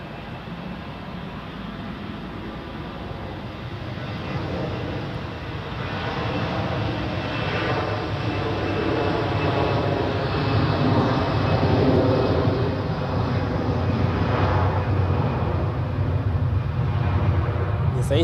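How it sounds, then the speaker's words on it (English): Airbus A350 just landed at Zurich Airport after a short flight from Pristina, a steady broad jet rumble and whine that swells gradually and stays loud to the end, with no talk. "This A350 just landed from Pristina in Kosovo"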